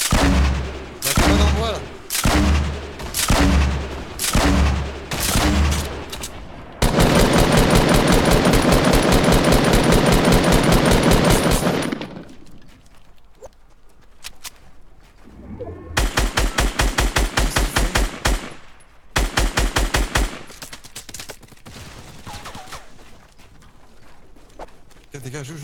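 Fortnite gunfire comes in rapid bursts of loud, close shots, then a long dense automatic stretch and more volleys after a lull, with excited voices talking over the action.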